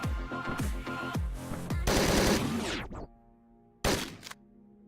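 Loud gunshots in the video game Hotline Miami 2: Midnight Animal, a rapid series of sharp blasts followed by a crunching impact and one more short burst after a brief pause.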